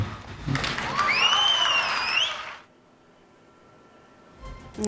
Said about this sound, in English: again getting a loud cheer